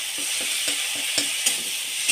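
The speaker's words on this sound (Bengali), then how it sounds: "টমেটোগুলোকে আমি পিনো করে ভেজে নিয়েছি।" Tomatoes fry in a pan during a Bengali mushroom curry preparation, a steady bright sizzle with soft scraping stirs recurring every quarter second or so, no voices.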